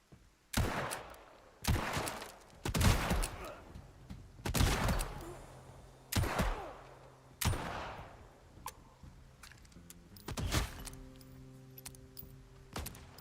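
Shotgun blasts from a Western open-world video game, Legend of California, ring out about ten times at irregular intervals. Each is a sharp, loud crack followed by a brief decaying tail.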